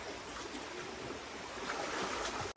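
Close, steady rush of river water flowing, a dense broadband wash with small splashes, ending in a brief abrupt cut.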